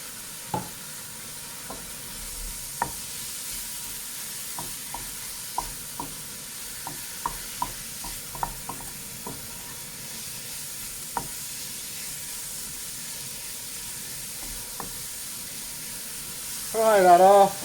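Cumin and smoked paprika fry in a pan with a low steady sizzle, punctuated by scattered light clicks of stirring, ending in a brief louder burst of tonal noise.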